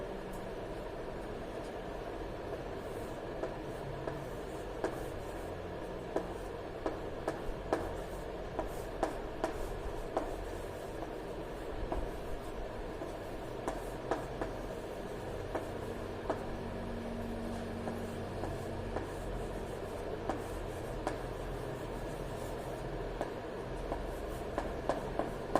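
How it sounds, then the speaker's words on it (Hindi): A pen writing sentences by hand, faint soft scratching and tapping strokes over a steady low background hum, continuing throughout with no talking. "तो मैं कुछ सेंटेंस लिखता हूं।"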